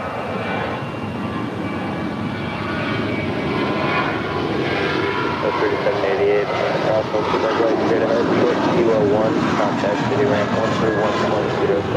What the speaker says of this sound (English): That is Delta Connection, Flight 3788, coming in from San Diego, California. It's an Embraer